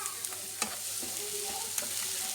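Onions, tomato paste and dry spices frying in a pan, a soft steady sizzle broken by a few sharp spoon scrapes and clicks as the mixture is stirred, close and fairly quiet with no talk.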